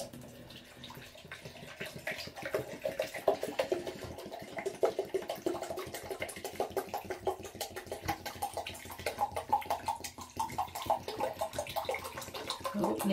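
Water poured from a Coke bottle into a jug, a continuous gurgling, glugging stream that runs for many seconds at moderate, close level with no talk.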